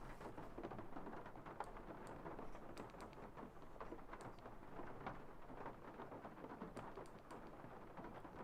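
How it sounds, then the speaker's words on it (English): Ambient rain loop from the Legend of the Crystal Skull game, a steady, soft hiss of falling rain with scattered drop ticks and a low rumbling undertone, faint and continuous with no talking. "get some Crystal Skull ambient rain going on in there"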